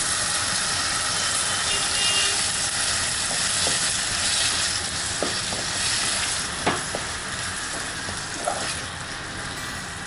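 A tomato mixture with turmeric, for a tomato, mint and sesame chutney, simmers and sizzles steadily in a pan, with a few soft clicks and bubbles over the constant hiss; no voices.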